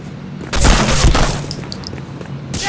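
Gunfire in the World War II shooter game Medal of Honor: Frontline, a quick burst of loud shots with booming low thuds, followed by a fainter rattle and lingering noise.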